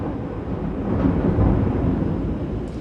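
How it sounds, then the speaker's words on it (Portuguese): Rolling thunder during rainfall, a low continuous rumble that swells through the middle and then eases, fairly loud and distant-sounding with no voices over it. "de vez em quando vai ter uns barulhos de trovão aqui que eu não posso controlar"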